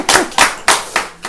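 Hands clap at a church sermon: five crisp, evenly spaced claps in a quick, steady rhythm, close and fairly loud.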